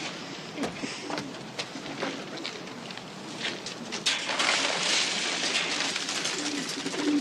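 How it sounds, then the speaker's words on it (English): Pigeons in a coop coo and flutter while being fed, soft murmuring calls with scattered wing flaps and shuffling, rising to a busier, louder patch near the end. "Come on, we gotta feed the birds."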